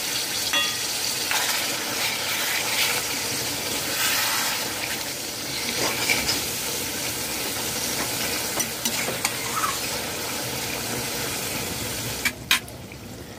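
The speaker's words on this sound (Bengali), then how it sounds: "রেড চিলি সসের বোতল জল ধুয়ে দিয়ে দিলাম 6 টেবিল চামচ।" Mushrooms frying with red chili sauce in a pan, a steady sizzle with scraping stirring running through, occasional sharper clinks near the end.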